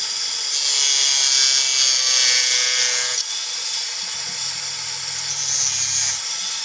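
A rotary tool spins a cutting disc through a 1/43 scale model car, giving a loud, steady high-pitched whine that dips briefly midway, then continues with a lower hum underneath.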